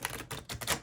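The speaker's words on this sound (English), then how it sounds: "I can't bridge it, but it riffles" A linen-finish tarot deck is riffle shuffled, giving four quick bursts of fluttering card clicks in rapid succession, close and fairly quiet with no talking.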